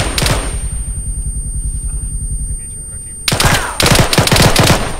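Rapid bursts of automatic machine gun fire in the video game ARMA 3 crackle loudly, a short burst first, then a pause of rumbling background before a longer sustained volley.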